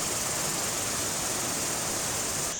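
The Tad Etu waterfall at the head of the falls on the Bolaven Plateau in Laos, a steady close wash of rushing water that stays constant and loud for a few seconds with no voices.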